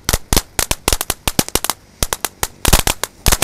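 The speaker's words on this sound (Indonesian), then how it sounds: "Ini ada air mancur beauty fountain atau air mancur pretek bola warna-warni" A crackling firework fountain, a beauty fountain shooting colourful pretek balls, pops in loud, rapid irregular bursts of sharp cracks close by, with no voices.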